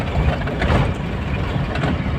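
Several vehicle engines idle together in a continuous, heavy low rumble nearby, steady throughout with no talking.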